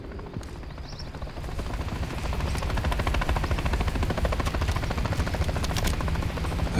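Helicopters in Modern Warfare III gameplay, a close, loud, rapid rhythmic rotor chop that builds over the first seconds and then holds steady, with a low engine drone underneath and no talk.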